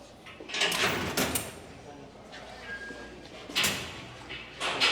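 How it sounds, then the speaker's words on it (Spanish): A door opens in a dramatic television scene with several sharp sliding thumps and clacks spread over a few seconds. Faint room noise sits between the sounds. "Puerta."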